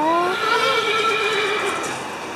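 A horse whinnies loudly and close by, a long neigh with high falling tones that trails off over about two seconds.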